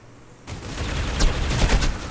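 Rapid automatic gunfire in the C-OPS shooter, a dense burst of loud overlapping shots starting abruptly and continuing for about two seconds with no talk.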